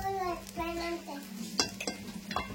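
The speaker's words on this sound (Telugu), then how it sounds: "కలుపు కలుపు బాగా కలుపు, ఉప్పు వేసి మంచిగా కలుపు" A spoon stirring sabudana khichdi in a pan after salt goes in, soft scraping and a few sharp metallic clinks, close and quiet, under a voice talking.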